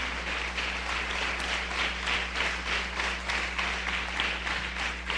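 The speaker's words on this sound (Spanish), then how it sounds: "dele palmas al Señor" A church congregation applauds during a sermon, a steady, dense wash of many hands clapping that holds evenly from start to finish, over a low constant hum.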